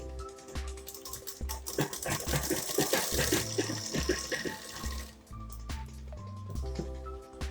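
A sewing machine runs in short bursts while it stitches a ribbed band around the neckline of a crop top, with rhythmic mechanical chatter over steady background music.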